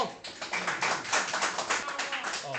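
Applause for an Italian singer at a celebration in a filling hall, a crowd clapping steadily and close for a few seconds with a voice faintly underneath.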